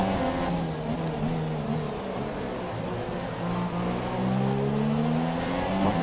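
F1 2017 race car engine in the video game during an overtake on the 2nd lap: a loud, continuous high-revving whine with pitch rising and falling through gear changes.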